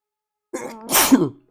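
One person sneezes during a French-language board game chat, a brief voiced intake followed by a sharp burst, close and alone against silence.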